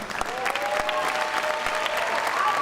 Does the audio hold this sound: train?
no